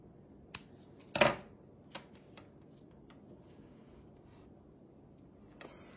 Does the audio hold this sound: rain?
no